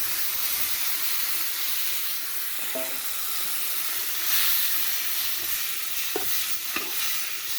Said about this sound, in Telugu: అదే ఆయిల్లోని టమోటా ఎర్రగడ్డ యాడ్ చేసేసినాను